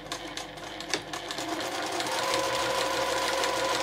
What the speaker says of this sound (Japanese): そしたら同じようにして7ミリを縫います。